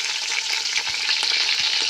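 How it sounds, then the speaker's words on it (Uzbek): Bone-in meat fries in hot oil in a pan as the first step of stuffed bell pepper dolma, giving a steady, close, dense sizzle and crackle with no talking. "Hozir suyeni qovurib olamiz birinchi o'rinda."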